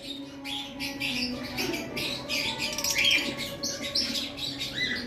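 A pair of cockatiels calls repeatedly with bright, close chirps and short whistled notes over a steady background hum.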